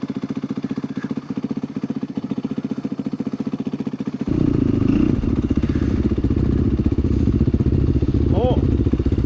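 An off-road motorcycle on an ORV trail near Oscoda, Michigan, its engine a steady close buzz that grows louder as the throttle opens midway, with a rider's voice talking over it.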